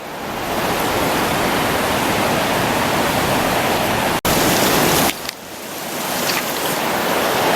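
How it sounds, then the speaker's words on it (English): Waterfalls and a stream rush beside a wet trail in the Columbia River Gorge, a loud, steady broadband roar of falling water that fills the whole clip, with a brief dropout and a slight shift partway through. "there's lots of waterfalls and stuff around"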